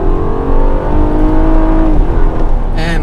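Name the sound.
V6 car engine revving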